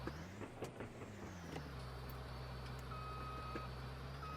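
Combine harvester in Farming Simulator 19, its engine droning steadily on a hill while a high reversing beep sounds briefly over the low vehicle hum, with a few clunks early on.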